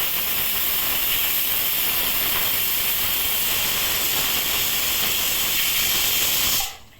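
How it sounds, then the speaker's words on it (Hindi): Steam hisses hard and steadily out of a pressure cooker whistle in a home kitchen while thali dishes are being cooked. The release is loud and continuous for about six and a half seconds, then cuts off abruptly near the end. "3 विजिल हो चुके हैं।"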